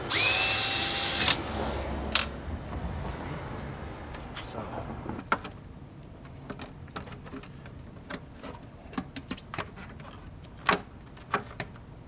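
Screw driven in during a cold air intake install on a 2016 Volkswagen Golf R, with a loud power-driver whine for about a second at the start followed by scattered close clicks and taps of parts being handled.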